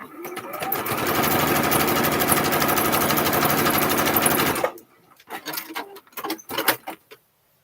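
A sewing machine runs steadily for about four and a half seconds, stitching a straight quarter-inch seam on a quilt-as-you-go bag, close and loud, then stops. Light clinks and handling of fabric follow.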